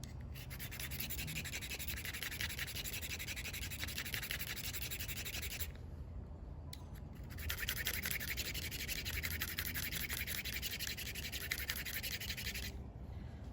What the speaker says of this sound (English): I'll take this coarse side and go ahead and grind back the